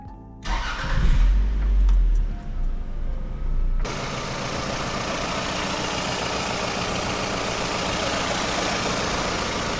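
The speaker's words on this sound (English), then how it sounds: "All right, we're gonna fire it up." A 1998 Toyota RAV4 engine cranks briefly and catches with a loud rev on a cold winter night, then drops into a steady, even idle that runs alone to the end.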